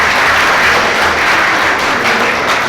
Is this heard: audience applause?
yes